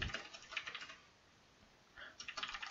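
Fingers tap a computer keyboard in quick, light bursts, pausing for about a second before resuming, close and fairly quiet.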